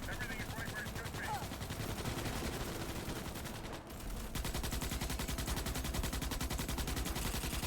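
Rapid enemy gunfire rattles continuously in a video game, dense and steady with a brief dip in the middle before resuming just as fast.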